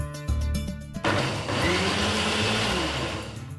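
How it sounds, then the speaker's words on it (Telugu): A mixie grinder whirs loudly, churning jackfruit idli batter with baking soda: a brief burst at the start, then a steady, continuous grind after a short pause, close and dominant throughout. "ఇప్పుడు మళ్ళా మిక్సీ వేసేసుకుందాం."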